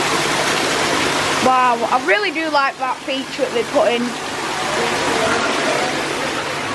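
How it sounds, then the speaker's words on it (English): A zoo waterfall with a dinosaur figure on top gives a steady close rushing splash, with someone talking over the middle part. "And look at this, the waterfall."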